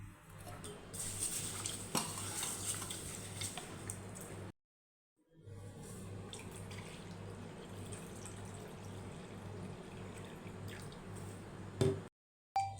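Millets, rice and fenugreek seeds being washed in water in a kitchen vessel, with steady sloshing and swishing, faint drips and light clinks of the pot, broken by a brief silent pause.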